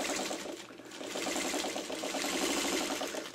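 A sewing machine runs continuously at close range, stitching curves with a fast, even mechanical chatter. No voices are heard.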